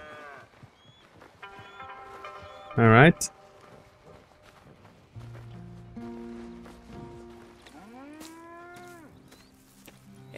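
Cattle on a ranch in the video game Red Dead Redemption 2 moo, including one loud close bellow and a later drawn-out low moo, over a quiet outdoor background with brief talking.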